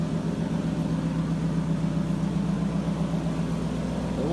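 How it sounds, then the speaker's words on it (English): A 1997 Lexus LS400 engine with a damaged exhaust runs steadily, giving a constant low droning hum with a faint rattly texture, close and unbroken throughout. "I think that's why we're hearing the exhaust noise, probably knocked part of the exhaust apart."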